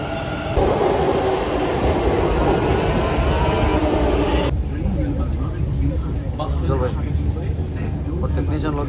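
A Bangalore Namma Metro train running, heard from on board as a loud, steady rumble and roar that shifts in character partway through, with faint voices beneath.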